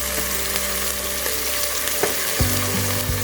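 Onion, ginger, garlic and green chili sauté in a pan for a white chickpea curry, producing a loud, dense sizzle with stirring scrapes and a clunk near the end.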